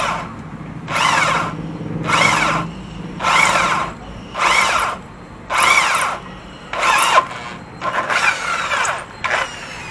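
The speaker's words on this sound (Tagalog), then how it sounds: "Dinala ko na tong pinaka-final drill bit natin." Power drill boring a hole for a rear disc brake conversion on a Yamaha Aerox scooter, running in about eight repeated loud bursts of whining motor with grinding, each separated by short pauses, close by with no talk.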